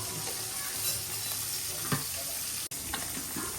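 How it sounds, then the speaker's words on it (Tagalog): A pot of ginataang mongo soup with squash bubbles at a steady boil, giving a continuous close hiss and gurgle with a few faint clinks, and no talking. "Kumukulo na"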